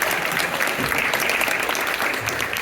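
A round of audience applause at a school science fair presentation, dense continuous clapping close and fairly loud throughout.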